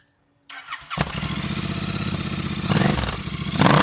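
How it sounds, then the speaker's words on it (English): A Royal Enfield Interceptor 650 with a Way2Speed stainless steel exhaust and dB killers installed starts up and settles into a steady, thumping twin-cylinder idle, then takes a couple of light revs near the end. "Let's hear the sound note with the DB killers."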